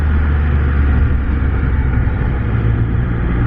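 A Can-Am Spyder F3 Limited three-wheeled motorcycle rides through heavy traffic, its engine and road noise forming a loud, constant, unbroken rumble with no talk.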